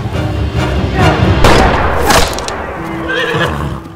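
Cavalry horses charge in a loud battle scene, with whinnies and neighs over rumbling hooves and a couple of heavy booms, busy and close throughout.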